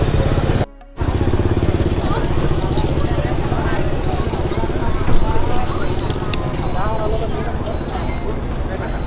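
A golf cart ride carrying a crowd of guests to a hotel gives a continuous rumbling drone with road and wind noise, while people talk over it throughout.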